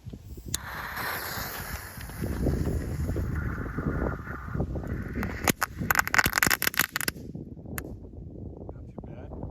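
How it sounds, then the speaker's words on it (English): A crackling ball firework set in a small hole in the rock beside a river sputters into a dense burst of sharp, rapid crackles after a hissing fuse, loud and close, with wind noise throughout. "So we're going to do this crackling ball in this little hole in the rock."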